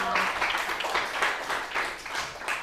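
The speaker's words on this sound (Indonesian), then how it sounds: "tepuk tangan untuk kita semua" Applause from an Indonesian classroom audience during a teacher-training lesson, a steady wash of many hands clapping for nearly three seconds at moderate level.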